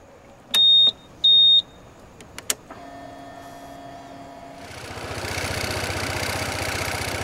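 A Honda ADV 160 scooter gives two electronic beeps and a few clicks, then the cold engine cranks and settles into a steady, close idle that continues to the end.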